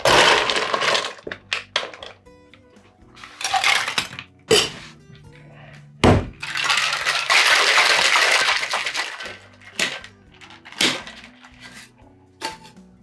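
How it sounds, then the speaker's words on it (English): Ice cubes clatter inside a cocktail shaker for a mocktail, with loud, irregular bursts of rattling and cracking separated by brief quieter gaps, close by. "now we're just going to go ahead and add ice and shake it"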